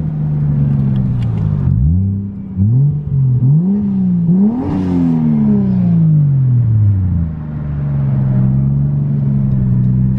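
A Toyota 1JZ engine restarts after stalling, then idles and revs in several quick rising and falling blips before settling into a steady, loud, close idle with a deep rumbling tone.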